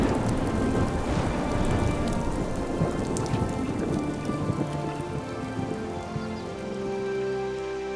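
Heavy summer thunderstorm over German rivers and lakes, dense steady rain pouring onto surfaces with low rumbling thunder rolling underneath throughout, no voices.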